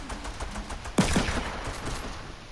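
A revolver fires in a video game, one sharp loud shot followed by a quick second crack, standing out over a quieter, steady game background.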